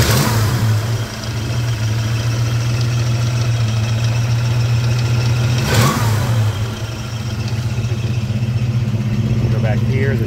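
A 1966 Ford Mustang convertible's 289 V8 runs loud and close at a lumpy idle, with one sharp burst near the middle before it settles back into its steady rumble.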